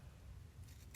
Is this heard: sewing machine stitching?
no